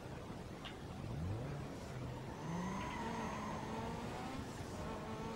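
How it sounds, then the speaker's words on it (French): A Mitsubishi car engine in Need for Speed Most Wanted on PS3 revs and accelerates, rising in pitch a few times, fairly quiet and steady with no talk. "écoutez le son de ma bagnole"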